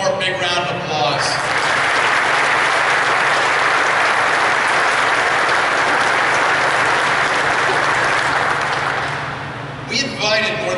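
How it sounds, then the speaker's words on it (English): Loud, sustained audience applause at a hangar naming ceremony at a naval air station, a dense wash of clapping lasting about nine seconds with brief voices at the start and end. "Let's give them all one more big round of applause."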